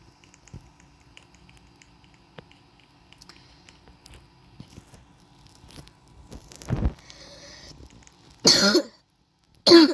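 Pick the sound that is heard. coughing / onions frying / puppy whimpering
coughing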